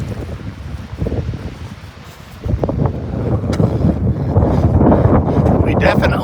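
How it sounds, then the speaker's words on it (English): Strong wind blasts across a mountain ridge on a Pacific Crest Trail section hike, roaring and buffeting the microphone continuously and growing louder toward the end. "wrong side of the ridge line for the wind. It's blasting us"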